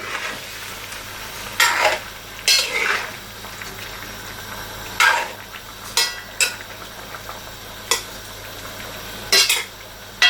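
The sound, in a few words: stirring food in a cooking pot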